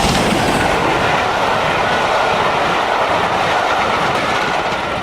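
A loud steam locomotive hauling the Scarborough Spa Express out of York rumbles steadily close by, a continuous heavy roar with rhythmic wheel clatter on the rails.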